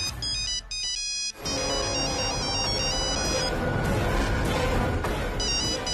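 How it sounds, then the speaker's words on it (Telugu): A telephone rings with a bright electronic ringtone melody, loud and steady for several seconds in an indoor domestic scene of a Telugu TV drama, with no talking over it. "ఈశ్వరి ఫోన్ చేస్తుంది."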